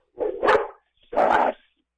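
Two sharp, loud barks from a nearby dog, separated by a short pause, with silence around them.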